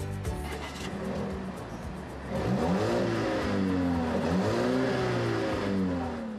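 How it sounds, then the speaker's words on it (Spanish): A Volvo S90 sedan with a 235 kW engine accelerates, its smooth engine note rising and falling through several gear-like sweeps, steady and fairly close, with no voices. "Nuestro coche de prueba viene con un motor de 235 kilovatios de potencia."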